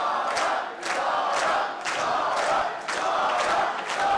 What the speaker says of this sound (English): Crowd coming to life for the champion.